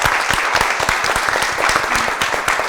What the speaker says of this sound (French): Donc j'aimerais qu'on applaudisse bien, comme il faut